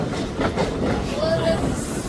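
A train at platform 1 of Bathinda Junction gives off a steady, loud low rumble, with a faint metallic squeal rising briefly partway through.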